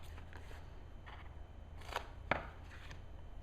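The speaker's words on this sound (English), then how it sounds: "all I'm going to do is use my scissors and cut some pieces off." Scissors snip through sticky-backed craft foam in a quiet room, a few soft cuts followed by two sharper, louder clicks near the middle, close and faint overall.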